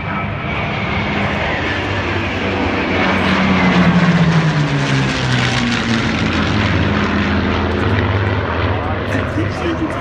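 A vintage propeller-driven fighter plane flies past at an air show, a loud, steady engine drone that swells and shifts in pitch as it passes, with people talking over it.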